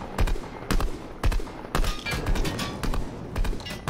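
Bursts of gunfire in the Fortnite video game aimed at a helicopter, several loud rapid volleys separated by short gaps, close and dominant over the game background.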